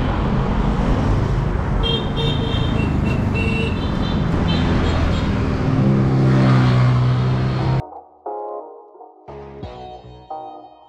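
Busy hilly street traffic near Patong beach in Phuket, Thailand, with engines roaring close by and several short car horn toots, loud and continuous before cutting to quieter, sparser sounds toward the end.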